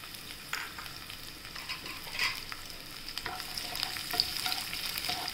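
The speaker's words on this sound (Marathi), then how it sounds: "आता आपण हे लसूण घेतलेले ते त्याच्यात परतून घेऊया।" Garlic sautéing with cluster beans in a pan for lasuni gavar, a faint, steady sizzle with light scrapes and clinks of a spatula stirring, quiet and without voices.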